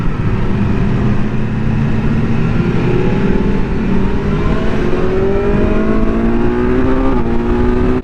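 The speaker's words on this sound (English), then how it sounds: "we're just plodding along with a couple of KTM 1290 Dukes" A pair of KTM 1290 Duke motorcycles cruise along a road at an easy pace, their engines giving a steady, continuous drone that slowly rises in pitch as they pull, loud and close with wind rush and no talking.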